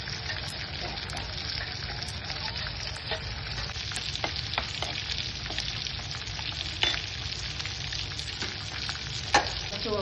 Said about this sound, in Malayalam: മറ്റേ സൈഡില് മമ്മിയുടെ ചിക്കൻ ഇങ്ങനെ മെരുമെരുമെരാന്ന് വരുന്നുണ്ട്